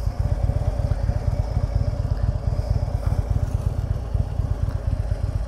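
A Harley-Davidson Street Glide motorcycle sits idling in neutral, its engine giving a steady, close, loud low-pitched lumpy rumble that runs unbroken with no talk over it.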